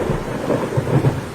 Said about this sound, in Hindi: अरे ये अचानक इतनी तेज बारिश कहाँ से आई?